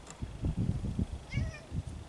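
A cat meows near an outdoor roundpole fence build, one short, faint meow over soft rustling and low thumps from work on the ground.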